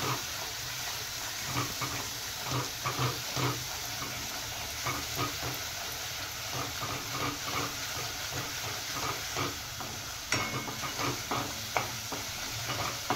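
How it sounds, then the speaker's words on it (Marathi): Spice masala of chilli powder and turmeric frying in oil over a high flame, a soft steady sizzle with faint intermittent stirring scrapes and a sharper knock near the end. "त्याचा कच्चेपणा जाणे तोपर्यंत चांगला फ्राय करून घ्यायचा मसाला।"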